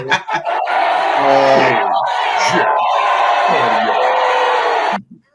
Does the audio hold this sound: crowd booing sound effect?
yes